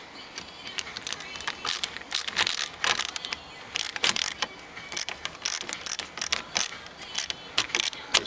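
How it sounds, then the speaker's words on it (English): A Phillips head screwdriver drives screws that hold a lumbar control behind the metal seat pan of a Super Duty truck seat, giving close, repeated ratcheting and clicking scrapes in a steady irregular rhythm with no voices. "Phillips head screwdriver."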